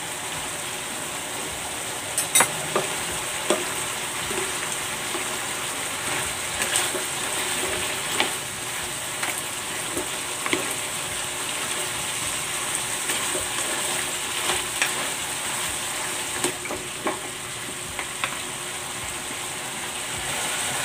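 Fried dried fish, or daing, is added and stirred in a frying pan, giving a steady hissing sizzle with scattered sharp clicks and scrapes over about twenty seconds.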